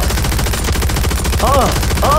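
Rapid automatic gunfire in the Call of Duty Warzone video game, a dense continuous barrage of shots, loud and close, running through the whole moment with a brief chirping game effect near the end.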